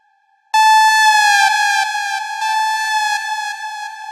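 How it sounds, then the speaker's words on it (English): After a brief silence, a bright electronic synth tone from the Harmless plugin's chip preset, with a rich buzzy timbre, starts abruptly and holds, shifting pitch slightly in a simple chiptune-like phrase. "I used chip preset of the plugin Harmless."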